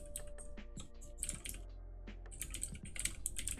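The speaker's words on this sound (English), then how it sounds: "Typing in something random over here, hold on." Rapid clicking keystrokes on a computer keyboard, close and fairly loud, in uneven bursts with a brief lull mid-way before the typing picks up again.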